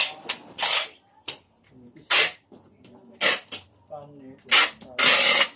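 Bursts of rough, rasping strokes of sandpaper rubbing wood, several separate passes close up, with brief murmured speech between them.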